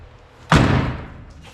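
The door of a 1937 Chevrolet sedan, freshly rehung next to a primed A-pillar, shuts with a single loud, solid slam that fades quickly.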